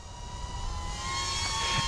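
A Diatone Roma F35 FPV quadcopter punching out in acro flight, a steady high-pitched motor whine with tonal harmonics that rises slightly in loudness over a brief moment.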